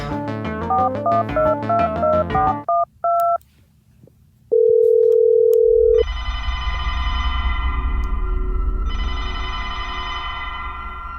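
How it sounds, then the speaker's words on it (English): In a video game, rapid phone keypad tones beep in a quick sequence, then a steady tone holds before a telephone rings in two loud, buzzing bursts. "Call the number again and listen for a phone ringing."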